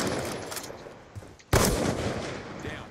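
Sniper rifle gunshots in Black Ops 2, a loud sharp shot at about 1.5 seconds over busy game ambience, with fainter shots and effects before and after.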